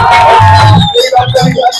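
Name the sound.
crowd applause and cheering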